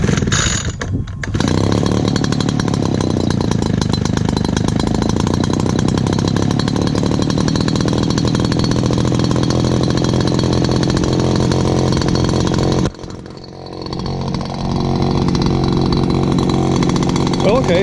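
An Echo chainsaw runs loud and close after starting, its engine buzzing steadily at high revs, dipping briefly near the end before picking back up.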